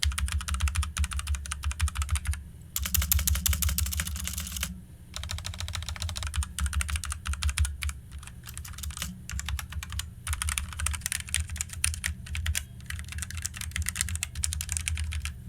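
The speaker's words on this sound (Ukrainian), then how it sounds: "Вони більш ляскають, досить гучна, але друк приємний" Steady typing on a budget Cougar Combat mechanical keyboard, dense clacky keystrokes in quick bursts with brief pauses, loud and close, with no voices.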